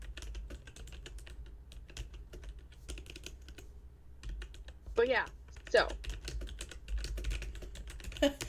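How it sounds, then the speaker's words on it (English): Keyboard typing on a computer as a character's name is entered, soft rapid key clicks running throughout with brief speech and a couple of louder vocal bursts partway through. "I'm typing in the character's name"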